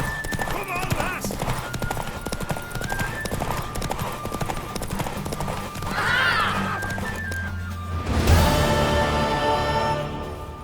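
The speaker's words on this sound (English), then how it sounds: "Worthy of the best horse. The mare is yours." Hooves clip-clop steadily as a horse runs in The Witcher 3, with a loud neigh near the end, all beneath game dialogue and a music bed.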